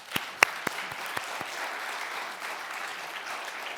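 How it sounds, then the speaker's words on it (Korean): A congregation at a New Year revival worship service in a New York church gives a short round of applause: a few sharp, separate claps first, then a soft, steady wash of clapping from the room, with no voices. "우리 하나님께 먼저 영광의 박수 한번 올려드릴까요?"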